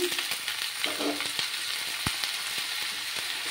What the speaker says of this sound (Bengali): এবার আমার পেঁয়াজগুলো ভাজা হয়ে গেছে। এবার আমি সবজিগুলো দিয়ে দিচ্ছি।